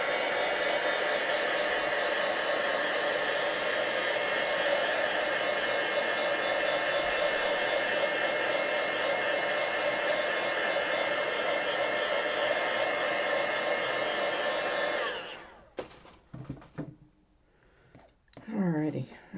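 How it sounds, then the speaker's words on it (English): A hair dryer blows steadily and loudly on a craft project made from Dollar Tree dominoes for about fifteen seconds, then cuts off, followed by faint handling noises and a short burst. "I'm going to use my dryer here real fast."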